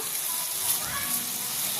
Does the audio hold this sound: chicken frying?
yes